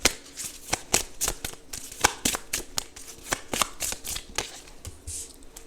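Tarot cards are riffled and shuffled for a card reading, giving a close, rapid run of crisp flicking snaps with short pauses between bursts and no talking.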